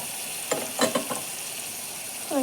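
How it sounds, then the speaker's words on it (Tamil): Tomato, ginger and garlic paste frying in a hot pan, a soft steady sizzle with a few brief bursts of spattering and stirring, close by and without talk. "இந்த சமயத்தில் நம்ம அரைச்சி வச்சுருந்த தக்காளி இஞ்சி பூண்டு பேஸ்ட்டும் சேர்த்துக்கலாம்"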